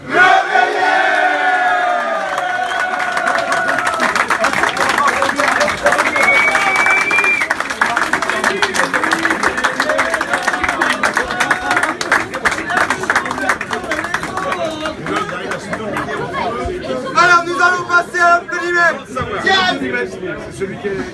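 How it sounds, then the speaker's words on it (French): Crowd at a Stade Nantais club gathering and mock election, applauding with rhythmic clapping amid cheers, shouts and lively chatter, loud and close, with voices calling out over the noise. "Je vous demande d'applaudir"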